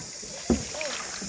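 A hired rowing boat on forest headwater takes one distinct paddle stroke with a short splash close by, then a faint watery swish over constant wind noise.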